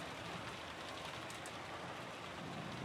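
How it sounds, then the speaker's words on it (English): Steady, dense video game rain from Umineko: Legend of the Golden Witch hisses evenly throughout, a constant wash of falling drops with no other sounds standing out. "disappeared beneath the sound of the rain"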